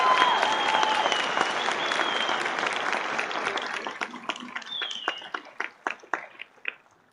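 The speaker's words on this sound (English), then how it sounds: "please join me in giving your loved ones a round of applause" Audience in a theater applauding at a high school graduation ceremony for the class of 2022, a full round of clapping that slowly thins into scattered, separate claps before fading out.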